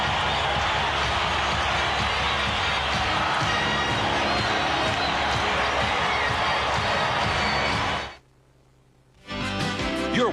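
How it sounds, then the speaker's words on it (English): Sellout crowd at the Delta Center during a Houston Rockets versus Utah Jazz NBA basketball game roars loudly and steadily with cheering, then drops out abruptly for about a second before the roar resumes. "sellout crowd at the Delta Center"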